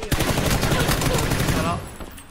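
Gunfire in a shooting video game, a rapid burst of repeated shots in a dense fusillade lasting about two seconds before cutting off, loud and close.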